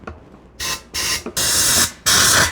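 Compressed air blasts into a Suzuki Ozark LTF-250 ATV fuel tank to force out gunk, coming in four loud, broadband hissing bursts of varying length separated by brief pauses, close up with no talking.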